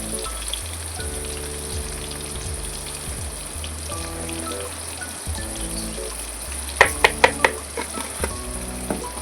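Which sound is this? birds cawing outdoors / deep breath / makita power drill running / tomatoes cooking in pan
tomatoes cooking in pan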